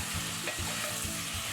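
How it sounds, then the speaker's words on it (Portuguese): Linguiça calabresa sausage sautés in butter and oil in a pan, a close, busy sizzle and crackle with rhythmic scraping stirs roughly every half second. "vamos começar refogando a linguiça"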